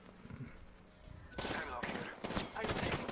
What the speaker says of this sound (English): gets some really solid shots into the Gibby there